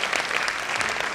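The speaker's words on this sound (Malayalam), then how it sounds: "എന്റെ പെർഫോമൻസ് ഇഷ്ടപ്പെട്ടെങ്കിൽ നല്ലൊരു കൈയടി" An audience applauds after a short skit at an annual community function, a dense burst of clapping that stays loud and even from start to finish.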